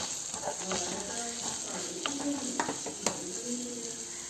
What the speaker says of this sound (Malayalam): സവോള ഇട്ട് കൊടുക്കാം കൂടെ തന്നെ ആ ഒരു പച്ചമുളക് ഞാൻ ഇട്ട് കൊടുക്കാറ് ഇനി നല്ലതുപോലെ ഒന്ന് വഴറ്റിയെടുക്കാം